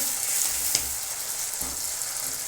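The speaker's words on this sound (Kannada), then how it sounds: "ಉಪ್ಪು ಹಾಕಿದರೆ ಟೊಮೊಟೊ ಮತ್ತು ಈರುಳ್ಳಿ ತುಂಬ ಚೆನ್ನಾಗಿ ಫ್ರೈ ಆಗುತ್ತೆ" Tomatoes and onion frying in oil with salt over medium heat, a steady close sizzle broken by a couple of soft stirring knocks, no voices.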